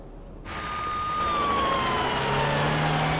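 An ambulance siren comes in after a short quiet lead-in, a sustained wailing tone that glides slowly downward and holds loud and close, with a low engine rumble underneath.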